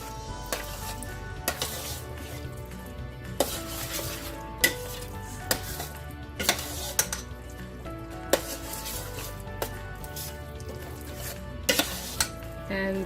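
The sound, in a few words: stirring macaroni and cheese with sausage and mushrooms in a pot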